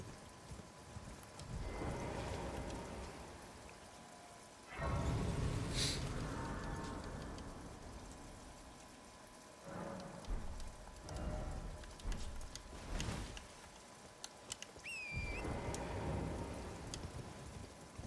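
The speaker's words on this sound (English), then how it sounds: "The rain, it's still rain, like drizzling outside." Drizzling rain falls steadily outside as a continuous soft patter, with occasional louder bursts and clatter nearby, and no talk over it.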